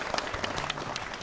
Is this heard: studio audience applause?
yes